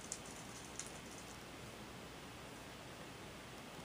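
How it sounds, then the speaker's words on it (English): Steady rain falling outdoors, a soft continuous hiss at low level with a couple of brief drop-like ticks near the start, no voices. "Oh, and it's raining."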